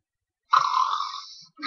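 A single snore from a character in the video game Persona 4, one drawn-out raspy breath with a nasal buzz, close and clear against silence.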